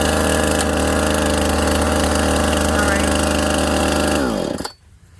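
A chainsaw engine, already warm and started without the choke, idles with a steady loud buzzing drone for about four seconds, then cuts off abruptly into near silence.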